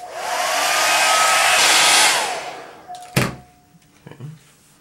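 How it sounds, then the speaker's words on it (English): A hair dryer drying a watercolor painting blows loudly with a whooshing roar for a couple of seconds, then shuts off, followed by a sharp thunk and a few small knocks. "We'll hope the dryer engine won't drown you out."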